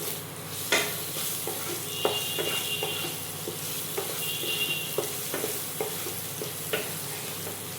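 Fried potatoes sizzling in hot oil with nigella seeds and chili powder, a continuous close sizzle broken by repeated stirring scrapes and spoon taps against the pan, with no talking.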